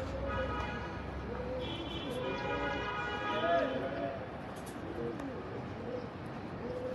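Pankhi pigeons kept at a home loft coo in soft, low rolling calls, fairly quiet and close, while someone talks over them throughout.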